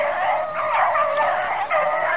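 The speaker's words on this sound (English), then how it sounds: "Here comes the dogs to the road." A pack of beagles bays while chasing a rabbit near a road during a conditioning run, their overlapping howling voices forming a continuous, fairly loud chorus throughout, with no talking.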